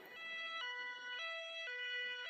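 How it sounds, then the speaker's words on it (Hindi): Ambulance siren from a Hindi cartoon, a loud two-tone wail alternating high and low pitch in steady repeated cycles, heard alone and close. "एम्बुलेंस लाडो को लेकर अस्पताल की तरफ निकल पड़ती है।"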